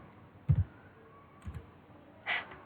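Three separate clicks of keys on a computer keyboard, each short and close, spaced about a second apart with quiet between.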